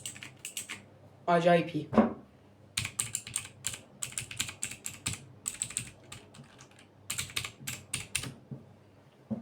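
Blue-switch keys on a Torima TK05 mechanical gaming keyboard clack in quick bursts of crisp clicks with short pauses between runs, while someone speaks briefly between the typing.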